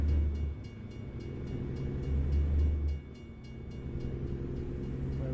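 A freight train rolls past in American Truck Simulator, a steady low rumble with a repeating clack of wagons, moderately faint and continuous for several seconds.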